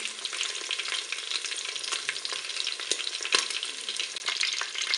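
Duck breasts browning in the pot of a Cookeo multicooker, a dense, continuous crackling sizzle with scattered sharper pops, fairly close and steady, no talking.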